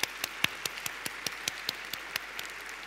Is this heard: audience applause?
yes